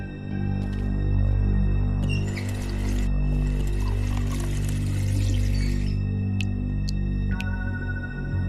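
Water being poured in The Wolf Among Us, a soft splashing pour over a steady low hum and tonal background, with a few faint drips near the end.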